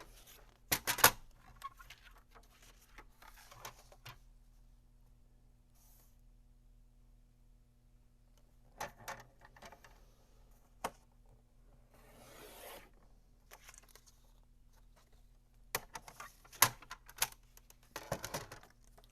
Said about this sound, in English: And now all we have to do is cut it diagonally.